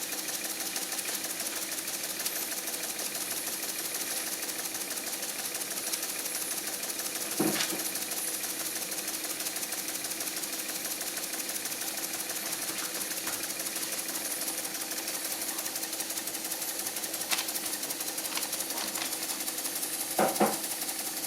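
An Empire #90 toy steam engine runs steadily at close range, giving a continuous dense mechanical chuffing and whirring, with a few sharper clicks or knocks breaking through now and then.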